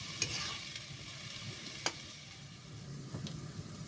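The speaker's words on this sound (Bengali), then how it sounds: "দিয়ে আমি ভালো করে নেড়ে চেড়ে হালকা কষিয়ে নেব।" Chicken being stirred and sautéed with spices in a pan for chicken kosha, with a steady low sizzle under scattered scraping clicks of a spoon against the pan, fairly faint and without voices.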